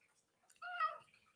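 A cat gives a single short meow, faint and slightly distant, rising out of near silence.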